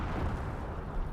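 A Company of Heroes battle in which a Panther tank takes a hit while Volksgrenadiers keep firing: a dense, continuous roar of explosions and gunfire with a heavy low rumble, with no clear gaps.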